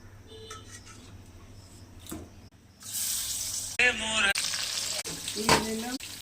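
Dried red chillies, black cumin and two bay leaves frying in hot oil in a wok, a quiet start that turns into a steady loud sizzle from about three seconds on, with stirring clinks and scrapes near the pan.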